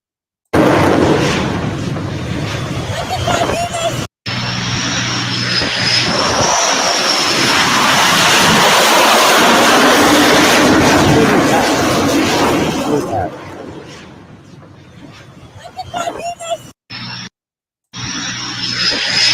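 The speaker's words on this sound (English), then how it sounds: "A Lebanon fighting jet, the assaulted Mirage 3, has landed on an Iran ship." Loud, sustained roar of a Mirage III fighter jet, a steady broadband rush lasting over ten seconds with a whining tone on top, then tapering off into quieter, patchy noise.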